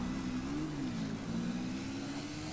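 A dirt bike engine in GTA V holds a steady, buzzing mid-pitched drone that rises and dips slightly, continuous and fairly quiet, with no speech.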